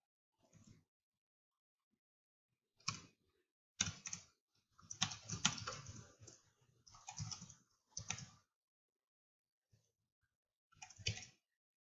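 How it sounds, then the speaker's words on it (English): Bursts of typing on a computer keyboard, short clusters of quick key clicks separated by silent pauses, close and clear with no talking. "so now we type quit"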